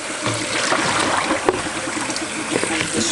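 Water being poured off soaking sea moss, a continuous close trickling and splashing pour with a few louder splats, running steadily throughout.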